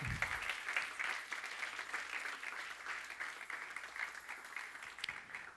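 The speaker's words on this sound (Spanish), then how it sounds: "Dale palmas al Rey" A church congregation claps during a sermon, a steady wash of applause running nearly the whole stretch at moderate distance before it thins out at the end.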